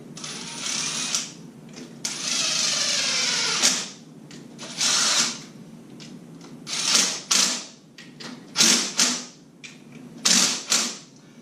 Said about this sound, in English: We'll run those down with an 8mm socket, not too tight.